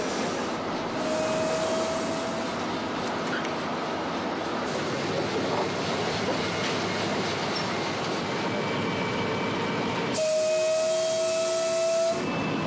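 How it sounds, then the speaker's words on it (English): A train on a children's railway run by young staff pulls away, its steady rolling rumble and rail noise filling the scene, with a drawn-out high whistle-like tone sounding briefly early on and again near the end. "Attention passengers, the train is leaving."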